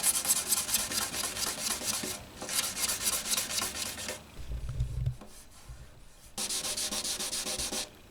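Hand sanding of a Jose Ramirez guitar's finish with sandpaper produces rhythmic back-and-forth rasping strokes, close and clear, pausing briefly midway before resuming.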